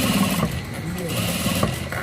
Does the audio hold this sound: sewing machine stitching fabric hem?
yes